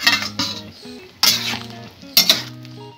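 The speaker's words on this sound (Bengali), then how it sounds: "5 মিনিট পর ফিরে এলাম, ঢাকাটা আমি তুলে দিলাম।" A lid is lifted off a pot of boiling winter vegetables, giving several close metallic clinks and clatters of the lid against the pot, with ringing tones between the knocks.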